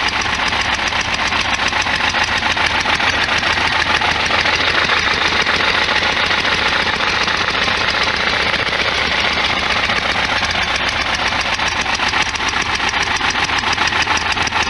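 Worn 1973 VW Super Beetle engine idling steadily and loudly throughout, a continuous close rough rattle with no pauses.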